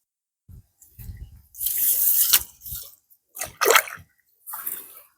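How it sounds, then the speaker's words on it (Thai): Water running in a rice field, heard as intermittent splashing and trickling bursts close by, separated by short quiet gaps. "น้ำไหล"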